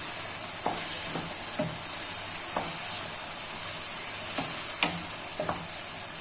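Spiced shawarma filling with crushed chili and cumin being stirred in a pan, with a soft background sizzle and a handful of scattered light scrapes and clicks from the utensil, with no talking.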